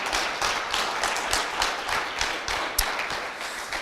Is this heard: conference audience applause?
yes